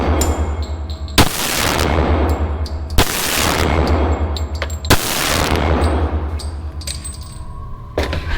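A Springfield XDM 40 competition pistol fires four loud, sharp shots, each ringing out briefly. Three come at even intervals of about two seconds, then a longer pause before the fourth.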